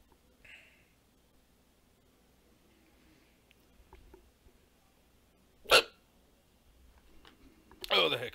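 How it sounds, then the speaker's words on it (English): Hiccups during a live Magic: the Gathering session: a few short, sharp isolated bursts, one loud in the middle and another near the end, over a quiet background. "Oh, the hiccups."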